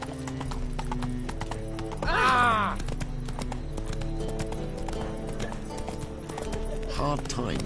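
Roach, Geralt's horse in the video game The Witcher 3, trots with a steady rhythmic clip-clop of hooves and lets out a brief whinny, under a continuous music score and a voice speaking.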